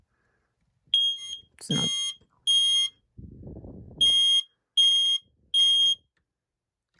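Household smoke alarm under test gives loud, high, piercing beeps in short bursts, with a brief clatter and a low rumble between them and a few quiet words spoken.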